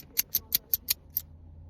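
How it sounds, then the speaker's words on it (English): Sharp snips from a cigar cutter trimming the cap off a La Aurora cigar, six quick crisp clicks in a steady rhythm, close and clear with no talking. "let's go ahead and cut this cap off"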